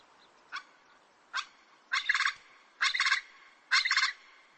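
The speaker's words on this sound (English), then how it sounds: "This is white-eared pheasant," A white-eared pheasant calls: two short single notes, then three louder rattling, gobbling bursts in a steady rhythm, heard clearly against quiet surroundings near Zhongdian, Yunnan.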